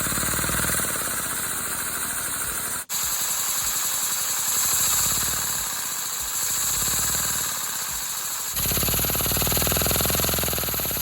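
A small brick-built 4x4 piston engine model with a compact inner head design runs steadily and close up, a continuous mechanical buzz with one brief dropout before it carries on, then a slight lift in level near the end.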